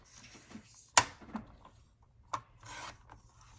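A paper planner sticker is trimmed by hand, a few quiet sharp snips and soft rubbing scrapes scattered between pauses, close and faint with no voice.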